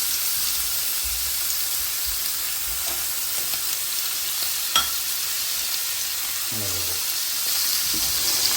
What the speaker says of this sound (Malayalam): നമുക്ക് ഇതിൻ്റെ മുകളിലേക്ക് ഒരു 2-3 പീസ് ബട്ടർ ഇട്ട് കൊടുക്കാം കേട്ടോ, നല്ല ഒരു ഫ്ലേവർ കിട്ടാനായിട്ടാണ്